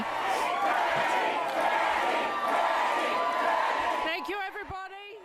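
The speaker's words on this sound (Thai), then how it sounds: "ระหว่างนั้นคนตะโกนเชียร์เพนนีเพนนี" Election night rally crowd for the winning Labor party, dense and loud with shouting and cheering that could be a chant of a name, fading near the end into a single voice speaking.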